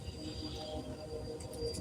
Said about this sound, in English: A freight train on its way to Dallas.